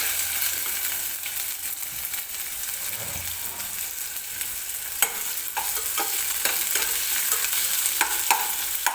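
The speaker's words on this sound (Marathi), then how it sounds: "कांदा हलकासा मऊ होईपर्यंत आपल्याला भाजून घ्यायचा आहे." Onion fries gently in a pan for mutter paneer gravy while a spoon stirs it, making a soft continuous sizzle with a run of clicking, scraping stir strokes in the second half.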